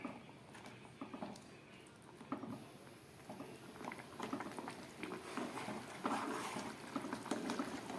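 Curry gravy with paneer cubes and potato kofta simmering in a pan, giving soft, irregular bubbling and popping that grows busier over eight seconds.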